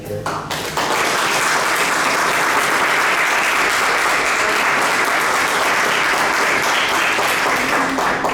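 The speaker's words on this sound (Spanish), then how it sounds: "Pedimos un aplauso para ella." Loud, sustained audience applause fills a book presentation hall at a Croatian community event in Peru, beginning abruptly after a brief moment and continuing steadily without speech.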